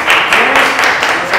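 A primary school classroom of children bursts into brief, loud applause, with quick overlapping claps forming a short dense burst.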